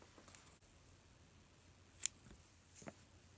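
Scissors snip through yarn in a quiet room, giving one crisp close cut and a fainter second snip a moment later, with no voices.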